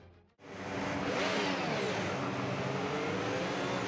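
A Formula 1 car in a racing video game pulling away on its formation lap, the engine surging into a loud, sustained high-revving whine after a brief dip, steady and close.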